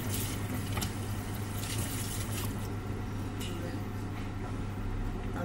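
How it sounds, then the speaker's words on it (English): Water running at a kitchen sink as hands are washed in bleach water, a steady close splashing flow with a low hum underneath throughout. "wash my hands in the bleach water"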